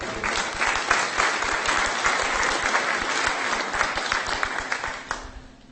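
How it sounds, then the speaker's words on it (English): A room full of people at a tribal distribution gathering applaud the Tribal Council with loud, sustained clapping that holds steady for about five seconds before tapering off. "I'd like a big round of applause for the Tribal Council"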